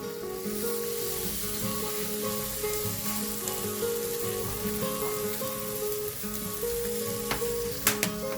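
Lamb sausage sizzling on a grill, a steady close crackling hiss with a few sharper pops near the end and no voices.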